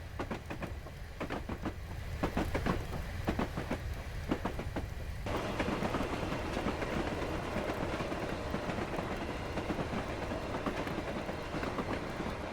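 A passenger train running on the Weardale line, a steady loud rumble of wheels on rails with rhythmic clickety-clack over the joints early on, then a continuous roar as it carries on.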